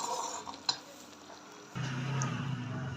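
Panjiri mixture is stirred into syrup in a pot, giving soft scraping and a brief clink, followed by a steadier low sizzling bubble in the second half, close and quiet with no talking.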